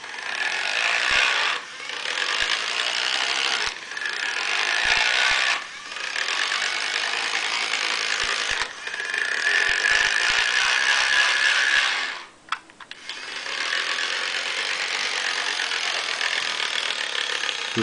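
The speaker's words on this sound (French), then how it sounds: "vous l'entendez, il y a un espèce de frottement, ce qui donne un peu le bruit des hélices" Motorised LEGO Batman Bat model running steadily, a continuous grinding, ratcheting friction of plastic gears that whirs like propellers, loud and close, with brief dips and a short stop near the end.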